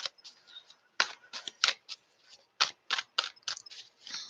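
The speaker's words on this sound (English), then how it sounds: "Cards fall out on the first attempt at a shuffle." Tarot cards being shuffled by hand at close range, a series of soft riffling bursts and papery slaps with short pauses between, including the flutter of cards falling out.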